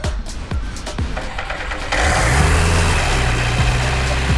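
A newly installed replacement engine cranks with several rhythmic starter pulses, then catches and settles into a loud, steady idle close by, with no talking.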